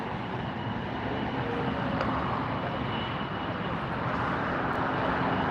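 A LOT Polish Airlines jet arriving at LAX produces a broad, steady engine roar that holds evenly throughout, fairly loud and continuous, with no voices over it.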